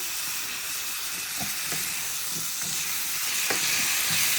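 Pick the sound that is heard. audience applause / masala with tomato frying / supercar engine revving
masala with tomato frying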